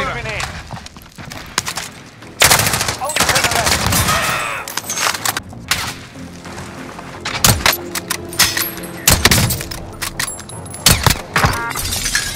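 Gunfire in the video game Warzone: sharp, loud bursts and scattered single shots, close and punchy, mixed with clattering game effects while players talk over the action.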